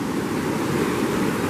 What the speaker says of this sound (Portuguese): a água está escoando exatamente por esse setor aqui